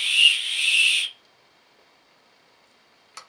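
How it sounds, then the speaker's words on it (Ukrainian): A small toy whistle blown in one steady shrill blast of about a second, loud and close, then near silence with a faint brief tweet at the end. "Свистунець якийсь."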